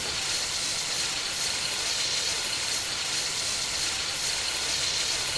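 A Union Pacific steam locomotive in the Train Simulator Classic game, with its outside valve gear, gives off a constant loud hiss of steam with a faint rhythmic pulse beneath, and no voices.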